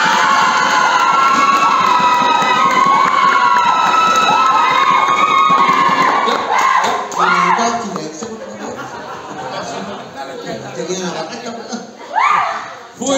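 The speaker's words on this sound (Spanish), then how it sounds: "Fuerte los aplausos para Victoria de Real." An audience at a drag queen casting show cheers loudly for a contestant, with shrill whoops and shouting crowd voices that subside midway and then flare briefly again near the end.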